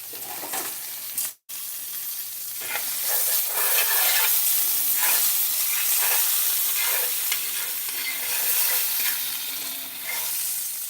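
Food fries in butter in a pan over a bed of onions, a loud continuous sizzle with stirring and scraping throughout and a brief dropout near the start, no voices.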